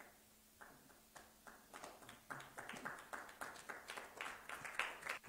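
Hands clap in a room, starting as a few sparse claps and building into a steady, quickening rhythm as more join in; fairly quiet and distant with no talking.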